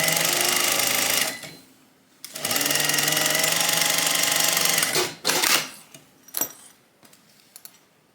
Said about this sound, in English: I'm just going to hold them in place while I'm sewing.